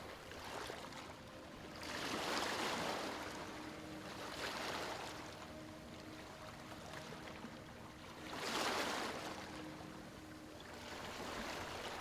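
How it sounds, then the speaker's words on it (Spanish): Sea waves roll in and wash out in slow, regular surges, each swelling into a soft hiss of surf before easing back, steady and calm at moderate distance. "Déjate llevar por el sonido del mar."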